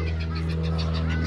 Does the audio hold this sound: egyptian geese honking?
yes